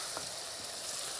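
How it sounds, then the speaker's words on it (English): A tomato and scotch bonnet pepper mix fries in hot oil, giving a steady, close crackling sizzle that bubbles as though nearly boiling, with no voices. "It's still frying, but it's like almost boiling frying at the same time."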